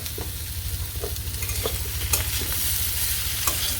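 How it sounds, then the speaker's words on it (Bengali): Potatoes frying in a pan with salt, dried chilli powder and turmeric, a steady close sizzle broken by repeated scraping stirs from a spatula, with no voices. "তো সব কিছু দিয়ে আমি ভালো করে আর কি আলুটা একটু ভেজে নিব"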